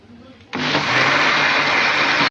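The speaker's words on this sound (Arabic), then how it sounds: "بعد ما ضربنا خلاص الحاجه كلها في الخلاط" An electric blender switches on after a brief quiet moment and runs loud and steady, whirring through orange cake batter made with orange peel and milk.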